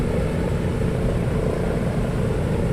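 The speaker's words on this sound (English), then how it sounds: "Let's get these other two engines up and running." Light aircraft engines run up at the Sky Master open day, a steady loud broadband drone with propeller rumble, continuous and close.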